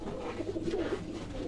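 A Chapra breed pigeon coos close by, a low soft burbling call over steady background hum, with no voices.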